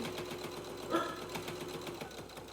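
A sewing machine stitching in the ditch along a quilt seam, running as a fast, even mechanical patter close up and continuous throughout.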